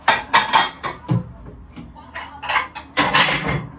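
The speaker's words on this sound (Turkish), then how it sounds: "Şu bulaşıkları kaldırayım." Dishes, pots and cutlery clatter and clink in a home kitchen as they are put away, with loud, irregular bursts of knocks, rattles and a cupboard sound close by.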